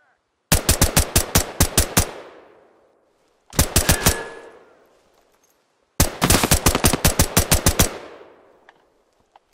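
Automatic gunfire in the tactical shooter Ground Branch rings out in three loud bursts of rapid shots, each burst trailing into a reverberant echo before a short pause.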